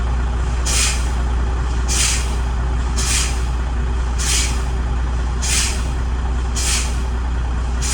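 Truck air brake system being pumped down toward its low-pressure warning, a steady engine idle rumbling underneath while sharp hissing bursts of released air repeat about once a second, seven in a row, close and loud with no talk.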